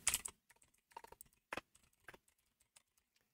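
Keys on a computer keyboard clack in short, irregular bursts while a search term is entered, close and fairly quiet with gaps between keystrokes.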